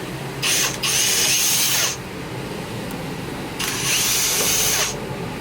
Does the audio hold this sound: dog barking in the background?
no